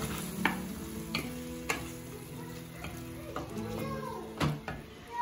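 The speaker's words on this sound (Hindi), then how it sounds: "दही ऐड करेंगे, टमाटर ऐड करेंगे, अच्छे से भूनेंगे इसको।" Mutton sautéing with yogurt and tomatoes hisses at a moderate level while a spoon scrapes and knocks against the pot in irregular strokes, near and without speech.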